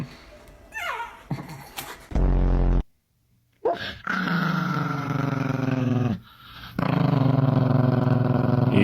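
Chihuahua growling in long, rough, sustained bursts broken by short pauses, loud and close, with some higher yelps or whines at the start.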